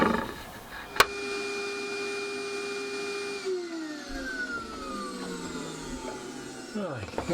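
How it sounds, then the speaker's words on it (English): A woodworking router cuts a deep groove around a wooden display case piece, a sharp start followed by a steady high-pitched whine that shifts pitch under load and drops away near the end, with speech at times. "Just going to change the bit over to a deeper bit that we can router a complete groove all the way around now."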